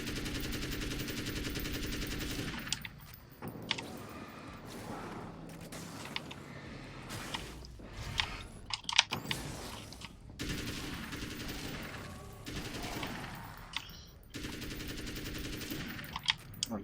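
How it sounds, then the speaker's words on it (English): Gunfire in the video game Alan Wake's American Nightmare: dense, sustained bursts of rapid shots in several volleys, loud and close, separated by brief pauses with game ambience. "How many rounds do I have to put in this guy?"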